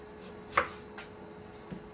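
A knife chops washed sweet potatoes into chunks on a board, one sharp close cut followed by two softer strikes in a quiet kitchen.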